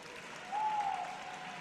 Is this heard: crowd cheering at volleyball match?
yes